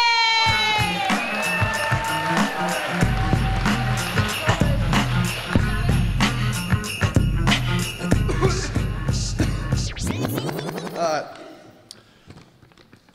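Clapping and cheering from a poetry slam audience at Fremont Abbey greet the next poet, loud and sustained with whoops over music, before fading out near the end.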